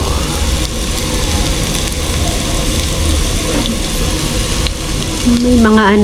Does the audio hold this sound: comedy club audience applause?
no